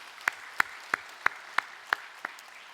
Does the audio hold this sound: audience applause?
yes